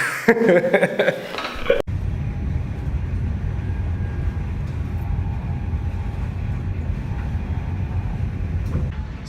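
A train rumbles steadily from inside a carriage, a low continuous drone and rattle, after a brief burst of other sound at the start.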